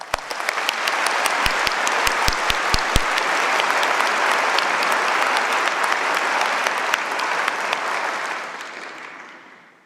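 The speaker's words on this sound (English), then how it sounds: "let's have a round of applause for our graduates" An audience at a university convocation ceremony applauds the graduates with loud, dense, sustained clapping that fills the room for nearly ten seconds before tapering off at the end.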